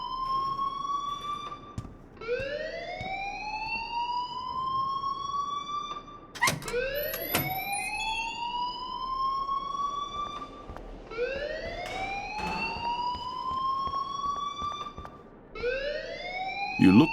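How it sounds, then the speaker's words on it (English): Looping electronic alarm in the video game Life is Strange Remastered, a repeated rising wail that sweeps upward over and over, steady and fairly loud throughout with a few sharp clicks mixed in. "please turn off that alarm since that's your job"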